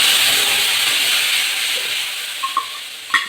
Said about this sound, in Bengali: এটা দিয়ে এই মশলাটা কিন্তু আমি এখন কষাবো